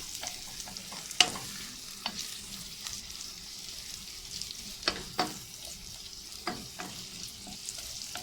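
Food frying in a pan while being stirred, a soft continuous sizzle broken by a few scattered scrapes and taps of the utensil, fairly quiet and close.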